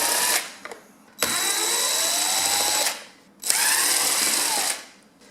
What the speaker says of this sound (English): Now I'm unscrewing this with a battery drill